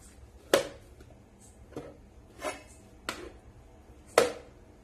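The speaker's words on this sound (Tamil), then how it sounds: "இப்போ இந்த தக்காளி வந்துட்டு நம்ம பொடி பொடியா நறுக்கிக்கலாம்" Fresh tomatoes being chopped finely with a knife for tomato jam, five separate sharp cuts against a board spaced about a second apart, close and fairly quiet.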